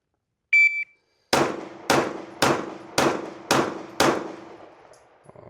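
A shot timer gives one short electronic beep, then six sharp pistol shots from a Glock 19 crack out in steady succession at an outdoor range, each ringing briefly.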